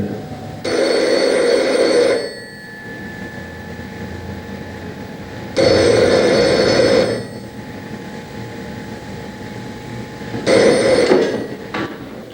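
Old-style telephone bell rings three times in long electric trills separated by pauses, fairly close and loud over a low background hum.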